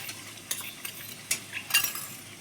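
A ground paste of turmeric, cumin, ginger, garlic and green chilli is stirred and fried for mutton curry, with a soft sizzle broken by quick utensil clinks and scrapes against the pan.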